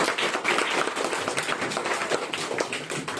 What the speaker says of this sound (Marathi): त्यांसाठी सगळ्यांनी एकदा जोरात टाळ्या वाजायच्या